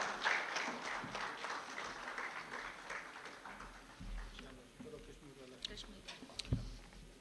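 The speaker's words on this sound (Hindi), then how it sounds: "जोरदार तालियों के साथ" Applause at an award and felicitation ceremony for a news team in Hindi, following a shawl being presented to an honoree; moderate clapping runs throughout, fairly distant and blended with room noise and talk.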